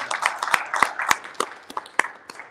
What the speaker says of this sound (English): give God another hand clap of praise this morning